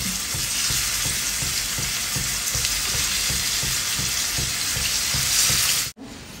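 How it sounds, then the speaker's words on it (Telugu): Marinated basa fish fries in a pan with a loud, continuous sizzle and crackle, and light scraping recurs in a steady rhythm. Near the end the sizzle cuts off abruptly, then returns more quietly. "ఇప్పుడు ఫిష్ ఫ్రై చేసేసుకుందాం"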